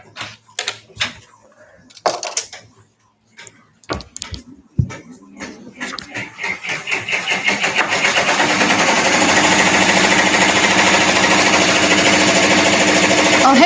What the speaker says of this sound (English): it's scanning inside, so we can start embroidering now.